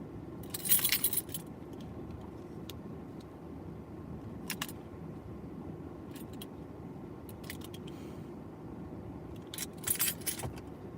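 Keys jangle in a few short metallic bursts, near and crisp, over a steady low hum like an idling car interior, with quieter clinks scattered between the main jangles.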